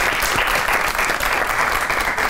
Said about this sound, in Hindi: मुनव्वर साहब वास्ते तालियां।